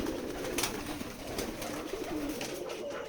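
Soft cooing and murmuring of young pigeons on a pigeon farm, repeated in short low phrases, fairly quiet with a faint background hum.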